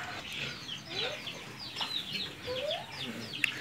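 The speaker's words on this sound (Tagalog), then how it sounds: "Native chicken farming." Native chickens on a rural farm cluck softly and intermittently at a moderate distance, with scattered calls over a quiet outdoor background.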